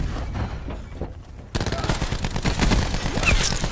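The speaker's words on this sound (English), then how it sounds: "Cluster grenade going out." Cluster grenades burst in Call of Duty Black Ops 4, a quieter spell of distant shots giving way to a dense, loud string of rapid explosions and gunfire crackling over several seconds.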